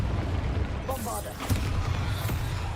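A Bombarda spell blast in the Hogwarts video game, a deep booming explosion with a rumbling tail over a steady low game backdrop, with a brief burst of talk just before the blast.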